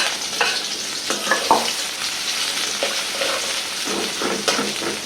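A spice paste fries in hot oil with a rohu fish head, sizzling steadily up close while a spoon scrapes and stirs through it in irregular strokes.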